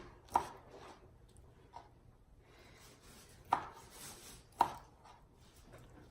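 A knife chops cooked seafood on a cutting board for a keto quiche, with a few sharp, sparse cuts spaced seconds apart at low volume and no talking.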